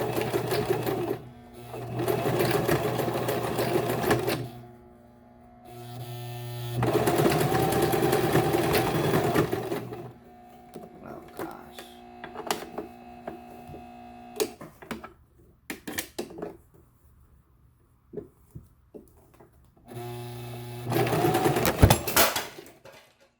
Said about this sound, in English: Now this video is just going to be about sewing on the sewing machine.